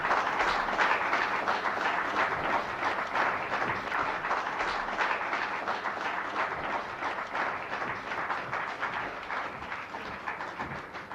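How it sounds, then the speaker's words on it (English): Sustained applause from a folk club audience after a song, a dense, even roar of clapping that holds steady and slowly tapers. "This round of applause."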